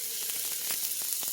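Mushrooms cooking in a pan just above medium-high heat give a soft, continuous sizzle with faint crackling pops scattered through it, alone and close by.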